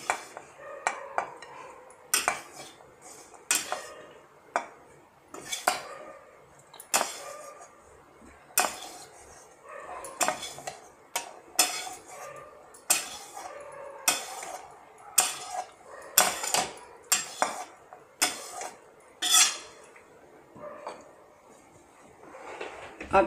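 Coconut laddu mixture being scooped and scraped from a pan into a large bowl, with a long run of repeated metallic clinks and knocks of a spoon against metal, close and fairly steady.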